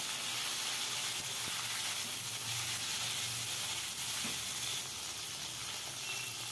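Asafoetida dropped into hot oil while making drumstick sambar gives a steady, close, broadband sizzle that hisses on evenly without pause and with no voices.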